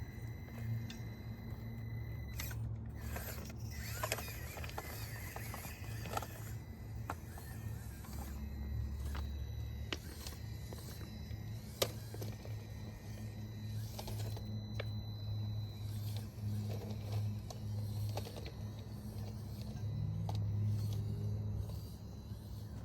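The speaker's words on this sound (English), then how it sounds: "it has the Injora 48 turn motor and low speed transmission metal gears inside of it" TRX4M RC crawler with an Injora 48-turn motor and metal low-speed transmission gears crawling steadily, giving a continuous low motor whine and gear hum with scattered creaks and clicks throughout.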